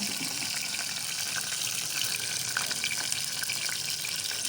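Curry leaves, mustard seeds and cumin hit hot oil with garlic while dal is being made, giving a dense, continuous crackling sizzle that stays loud and even throughout, with no voices.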